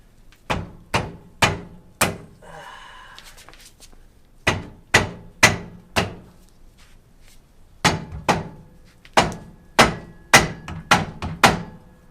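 Loud, sharp hammer blows ring out on a metal brake part of a first-generation Toyota 4Runner in quick bursts of several strikes, pausing between groups, with a brief scraping sound after the first burst.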